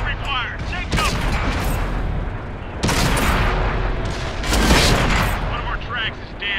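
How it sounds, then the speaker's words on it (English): Battle in World of Tanks with artillery fire: heavy booming impacts and cannon shots, with crashing bursts near the start and middle and a louder blast toward the end, while voices speak over the fighting. "Artillery fire, take cover!"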